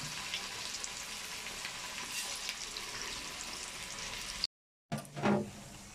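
Cabbage bonda fritters frying in a pot of hot oil, a steady close sizzle running throughout, briefly cut off near the end before a stirring clatter and splash.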